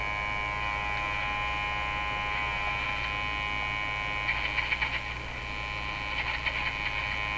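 Steady hum and buzzing static come from a Canadian NE 5200 Champ tube radio tuned near 1600 on the AM dial, with a constant drone and faint crackles throughout.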